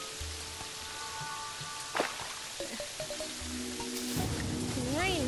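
Steady hiss of rain in the Terraria video game, with a few game sound effects, short tonal blips, and rising warbling tones layered over the constant downpour.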